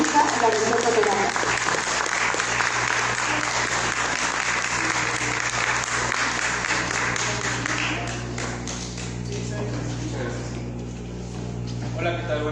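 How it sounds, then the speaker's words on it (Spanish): An audience at a lecture on archaeological ceramics welcomes the speaker with loud, sustained applause that thins out toward the end, while a steady electrical hum runs underneath. "Recibamos con un fuerte aplauso al maestro Raúl Rocha"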